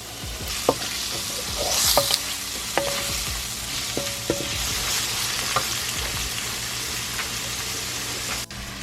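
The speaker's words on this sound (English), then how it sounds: "While the shrimp is cooking" Shrimp sizzle and fry in a pan for pad thai while being stirred, a continuous crackling hiss with scattered clinks and scrapes of a utensil, close by and without speech.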